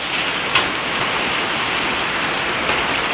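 Hail pelts down in Rodriguez, Rizal, a dense, continuous patter like heavy rain on surfaces. A couple of slightly louder impacts stand out against the steady wash.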